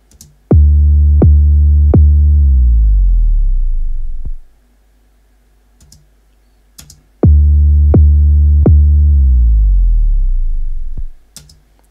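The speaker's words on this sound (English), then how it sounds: "So it's sliding all the way down to a lower octave, and it just gives that sort of deep bassy sound" A deep synth bass made in FL Studio hits a note, then glides smoothly down to a lower octave, and the phrase plays twice with quiet pauses between; loud, booming and clean, with faint clicks around it.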